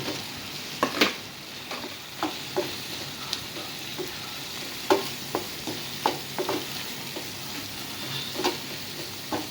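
Bitter gourd with crushed tomatoes frying in a pan, a steady soft sizzle broken by repeated sharp scraping taps of a utensil stirring, close up with no talk.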